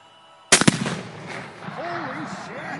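A gunshot at a Tannerite target outdoors: a sharp crack and rapid booming echoes, then a rumbling tail while people talk excitedly in the background.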